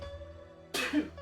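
A single sneeze from a character in the video game James Patterson Women's Murder Club: A Darker Shade of Grey bursts out over a quiet steady hum, with a brief airy tail.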